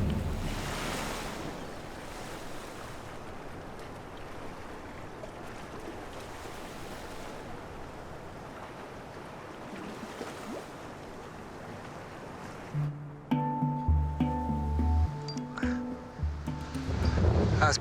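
Open-sea swells around twenty feet roll with a broad, steady rush of surf and wind for most of the stretch, then give way near the end to louder tonal sounds.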